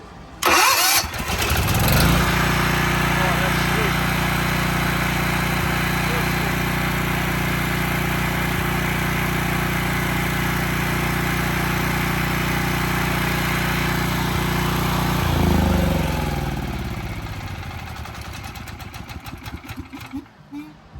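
A Generac GP 7000 portable generator cranks and catches, then runs loud and steady at a constant drone for about thirteen seconds before shutting off and winding down to quiet.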